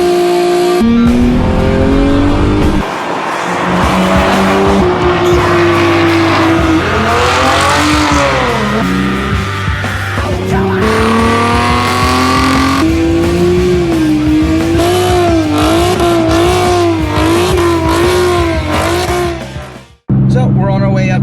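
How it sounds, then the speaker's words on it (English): A car runs an autocross course at Lake Elsinore, its engine loud and close, revving up and down through gear changes with tire squeal, then cutting off abruptly near the end; a voice speaks over it. "today we're heading up to Lake Elsinore to go do some autocrossing with the corner exit"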